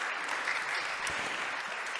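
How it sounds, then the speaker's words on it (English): Sustained audience applause at the first Resilience Conference in Copenhagen, a dense steady wash of many hands clapping for two guests, even in level throughout with no voices standing out. "Please give a round of applause once again to Peter and to Evelyn."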